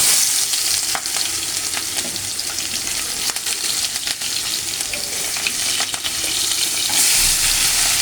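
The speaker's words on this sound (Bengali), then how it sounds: "আমি এটা ভালো করে ভেজে নেব" Onions sizzle in hot oil in a pan along with whole black cardamom and cinnamon, a continuous crackling fry with occasional stirring, close and steady throughout.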